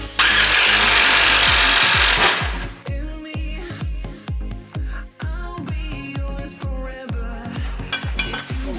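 A DeWalt impact wrench tightens a rear suspension arm bolt on a Nissan 350Z: a loud burst of spinning whir, then a rapid series of close, rattling hammer blows.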